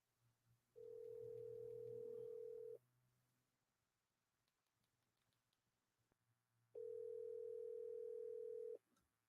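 Two long steady ringback tones sound while a phone call is placed, each lasting about two seconds with a pause between them, over a quiet, faintly humming room.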